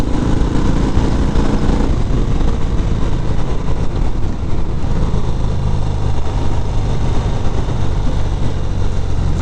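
A 2019 Harley-Davidson FXDR 114 motorcycle is ridden onto a highway off-ramp, its engine giving a loud, continuous low rumble that is thick with wind buffeting and never lets up.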